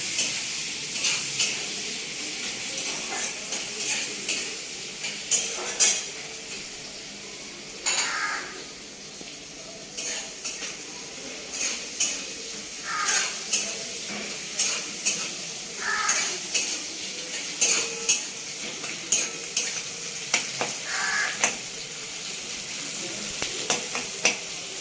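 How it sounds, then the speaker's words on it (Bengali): Chopped garlic, onion and green chilli frying in a pan, a continuous sizzle with repeated scraping strokes of a spatula, some sharp metallic clinks against the pan, close and fairly loud with no talking. "রসুন কুচি, পেঁয়াজ কুচি, কাঁচা লঙ্কা, এগুলো একটু ভাজা ভাজা করবো।"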